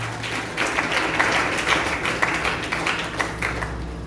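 A church congregation applauding during a Sunday service, with sustained, dense clapping that stays fairly steady and loud for several seconds, with no speech over it.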